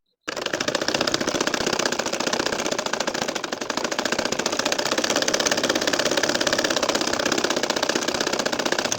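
An ordinary home sewing machine stitches a nakshi kantha quilt, its needle chattering in a fast, even, mechanical rhythm that starts abruptly and runs close and continuous with no talking.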